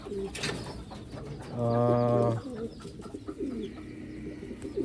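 Pigeons coo close by, with one clear, drawn-out throaty coo in the middle among softer scattered coos and bird noises, no talk over them.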